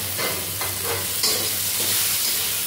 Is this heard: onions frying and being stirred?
yes